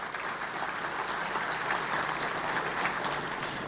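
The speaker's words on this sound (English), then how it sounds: "Let's go ahead and give Hayden a big round of applause." Steady applause from an audience at a Chamber of Commerce monthly luncheon, a dense even wash of clapping sustained throughout at moderate level with no talk over it.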